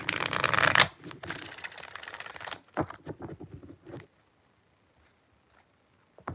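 Tarot cards being shuffled by hand, a dense riffling burst at the start followed by several shorter shuffling flurries, then near silence with a faint tap at the end.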